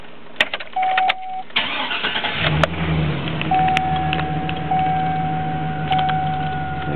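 A 2007 GMC Sierra 2500 pickup truck starting up: a few clicks and chimes, then the engine cranks and catches about two seconds in, settling into a steady, close idle while a warning chime repeats.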